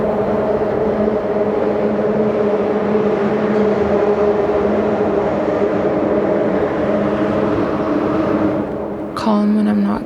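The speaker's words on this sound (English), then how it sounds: "Calm when it's just the water, and chaotic when the cars pass by the bridge." Traffic rumbles steadily over a bridge beside water, a loud, continuous wash of passing cars that cuts off abruptly near the end.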